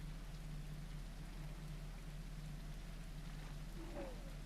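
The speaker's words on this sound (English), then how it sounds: "It's also raining and it's nighttime" Steady rain falls at night in the dinosaur survival game The Isle, a constant dense hiss with a low hum beneath it and no voices.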